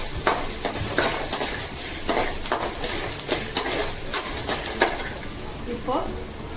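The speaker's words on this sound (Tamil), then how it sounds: "கொஞ்சம் பெருங்காய பொடி போடுறேன். கருவேப்பிலை போட்டேன்." Asafoetida powder and curry leaves fry in a hot pan, a close crackling sizzle broken by spoon stirring and scraping against the metal, with a voice talking over it.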